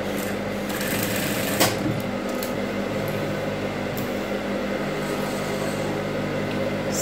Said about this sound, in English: let's go ahead and start sewing